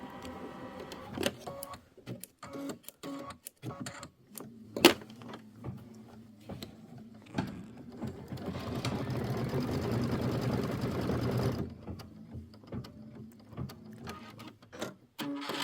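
An embroidery machine stitches a Kimberbell mini quilt, producing a rapid series of sharp mechanical ticks and knocks with a longer sustained whirring stretch in the middle, close and moderately loud.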